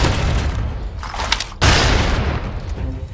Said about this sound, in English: Now we can see sniper shots pointed at me.